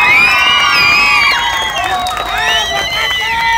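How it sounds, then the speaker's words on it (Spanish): A large crowd at a Mexican clown show cheers, shouts and whoops loudly, with children's voices prominent and some clapping mixed into the continuous roar. "¡Y todo el público grita y aplaude!"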